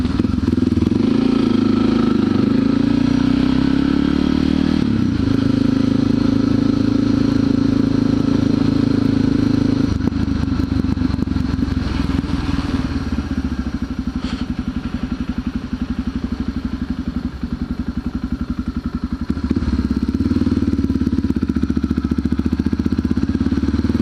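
A supermoto motorcycle rides through downtown streets, its engine droning loud and close the whole time, with shifts in pitch as the rider changes speed and gears.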